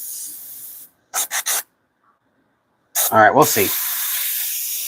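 Airbrush spraying dark magenta paint, a close hiss that cuts off, a few short puffs, a silent gap, then a longer steady spray while a voice speaks briefly.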